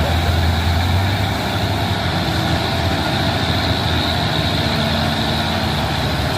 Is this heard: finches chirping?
no